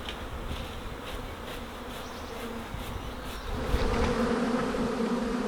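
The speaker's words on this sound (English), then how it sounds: "There's literally bees everywhere right now and they look really angry." A dense swarm of bees hums continuously close by, agitated, the buzzing swelling louder and thicker toward the end.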